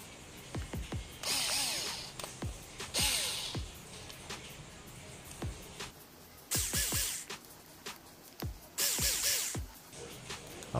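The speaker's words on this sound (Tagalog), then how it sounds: "luwagan lang natin konti itong screws na to" A powered screwdriver loosening the screws on a metal Speakon speaker connector, short whirring bursts repeated several times with pauses between, close and fairly quiet.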